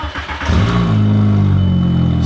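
An old, high-mileage car with 197,000 miles, dented and beaten up, cranks and starts. Its engine catches and settles into a loud, steady, rumbling idle close by.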